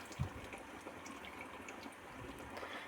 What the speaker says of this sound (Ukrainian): Якщо не вистачає, то додаємо ще кімнатної температури водичку